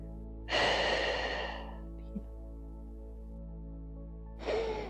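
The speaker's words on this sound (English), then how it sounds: "Breathing into this pose." Slow, deep breathing during a yoga side stretch: one long, audible exhale that fades gradually, a pause, then another breath starting near the end, close and quiet over a low steady hum.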